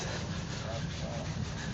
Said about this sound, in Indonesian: lagi di amplas